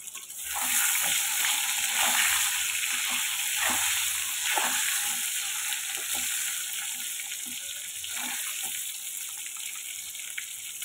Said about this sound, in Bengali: লাল লাল করে একটু ভাজা হয়ে যাক।